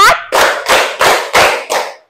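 Six sharp, loud hand claps ring out close by at an even, steady rhythm as children clap together in a rhythm game, with no talking over them.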